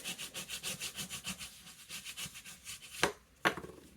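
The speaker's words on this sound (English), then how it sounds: "I'm going to flip it over on my craft mat and just rub it." Folded paper card rubbed back and forth on a craft mat: a fast, even run of close, soft scraping strokes, then two sharper taps near the end.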